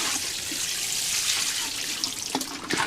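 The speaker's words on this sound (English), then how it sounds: "So we'll just give these a bit of a watering." Seedlings in moist compost on an allotment get a light watering, a steady splashing hiss of water pouring close by that breaks into a few brief knocks and splashes near the end.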